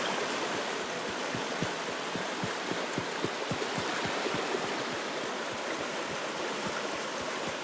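Mountain stream water flowing steadily over rocks near a campsite along the Blue Ridge Parkway, a continuous broadband rush with close splashing and regular small gurgles, no talking.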